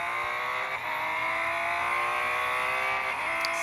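A 2019 Porsche 935 race car in a racing video game on the IMS road course gives a close, steady high-pitched engine drone. The pitch shifts slightly as the revs rise and ease, with no talk over it.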